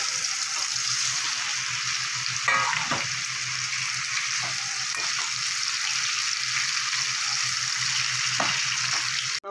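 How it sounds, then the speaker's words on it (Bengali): Paneer pieces frying in oil in a pan, a constant dense sizzle that holds steady throughout, broken only by a few faint clinks of a utensil. "বাকি পনিরগুলো আমি ভেজে নেব।"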